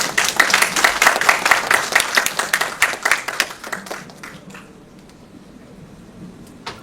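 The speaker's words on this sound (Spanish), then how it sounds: "un fuerte aplauso para el doctor Eri" An audience at an international rescue congress in Lima, Peru claps for a speaker, a lively burst of many hands clapping that stays strong for about four seconds, then thins into scattered claps and fades to quiet room tone.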